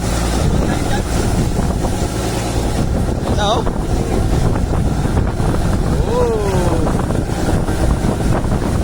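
Waves slapping against a moving boat at sea amid loud northeast-monsoon wind and engine rumble, with brief shouts from people on board.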